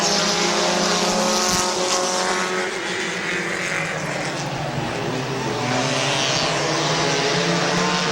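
Race cars roar around Midvale Speedway in a steady, loud, continuous pack, engines droning and overlapping as they run close together through the turns.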